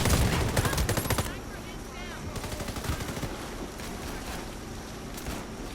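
Gunfire in the shooter game Warface opens with a rapid, loud burst of automatic shots, then fades to scattered quieter shots over a windy background.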